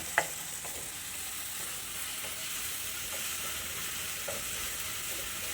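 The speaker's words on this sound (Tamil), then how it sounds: "நான்வெஜ் செய்கிறப்ப இஞ்சி பூண்டு வந்து எண்ணெயில் வதங்கணும்" Ginger and garlic frying in oil for Chettinad chicken, a faint, steady sizzle that runs throughout with a few light stirring taps, one sharper click near the start.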